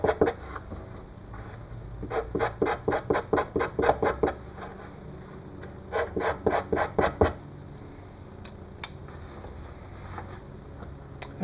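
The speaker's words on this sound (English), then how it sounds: "I'm just going to scrape it a little bit to rough it up so the glue adheres better." A blade scraping the grain side of a piece of leather to rough it up, close and steady rasping strokes in fast rhythmic runs, then a few scattered strokes near the end.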